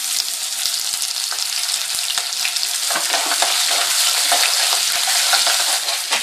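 Chopped onions and ginger fry in a pan, giving a loud, constant hiss and sizzle broken by quick scrapes and clicks of stirring, with no talking.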